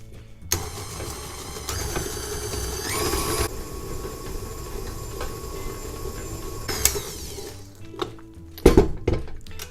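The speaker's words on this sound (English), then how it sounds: "I'm going to turn it on and mix it for, like I said, maybe 30 seconds on a medium speed" Steady whirring drone of an electric mixer running at medium speed, beating eggs and vanilla into snickerdoodle cookie dough, close and continuous with a few clatters and bumps near the end.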